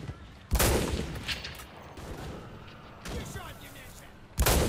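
Gunfire in a free-to-play shooter video game: two loud sharp shot bursts open and close the stretch, with quieter scattered shots between. Someone shouts over the noise.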